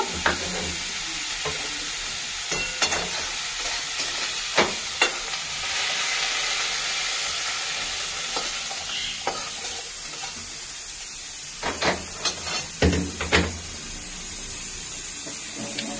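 Black cumin, dried chilli and chopped onion tempering in hot mustard oil, a steady close sizzle and hiss running throughout with occasional sharper crackles and stirring scrapes, no voices.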